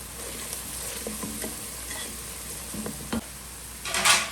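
Chopped onion softening in a hot pan with a soft steady sizzle, a spoon stirring and scraping through it, and a louder clatter against the pan near the end.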